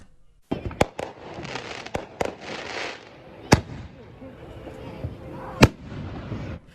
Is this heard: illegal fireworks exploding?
yes